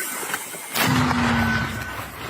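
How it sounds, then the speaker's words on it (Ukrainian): An artillery shot fired from a launcher at the front in Ukraine's Kherson region, a sudden loud boom followed by a sustained roar and rumble that fades over a couple of seconds. "Постріл!"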